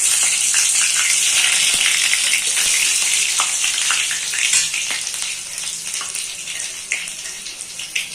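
Garlic added to mushrooms frying in oil with a little sugar for mushroom kosha, a loud dense hissing sizzle that gradually eases and thins out over several seconds, with no voices.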